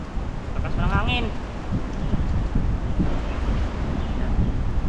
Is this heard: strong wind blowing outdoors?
yes